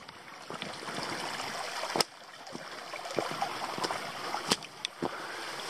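A creek flows at a hiking trail crossing in Tasmania, a faint, steady babble and trickle with occasional sharper splashes and knocks close by, no voices heard.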